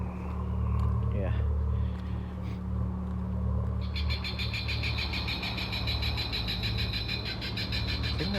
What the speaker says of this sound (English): I think that's a bird alarm. I don't think that's an actual bird making that noise.